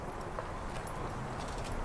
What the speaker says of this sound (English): we just picked up our mini horse Sandman